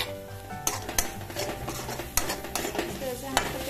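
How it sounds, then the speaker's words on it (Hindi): A spoon stirs masala with turmeric and coriander powder frying in a pan for parwal aloo sabji: steady sizzling under repeated scraping, clinking strokes against the pan, close and loud, with no talk. "इसको ऐसे चलाते रहेंगे ताकि हमारा ये मसाला पक जाए"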